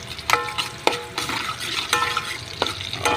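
Onions sautéing for sinigang na lechon, a close crackling sizzle broken by regular sharp scrapes and clacks of a spatula stirring the pan, loud and rhythmic, no talking.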